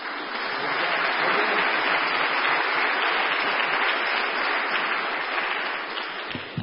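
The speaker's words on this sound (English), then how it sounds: "That's a pretty good deal when you get applause before you even say anything." Sustained applause from an audience at a church special event, a dense, steady wash of clapping that swells quickly and holds for several seconds before tapering slightly, with no talk over it.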